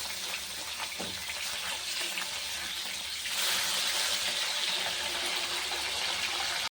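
Fish fries in hot oil, a steady sizzling hiss that swells louder partway through and holds until it cuts off abruptly.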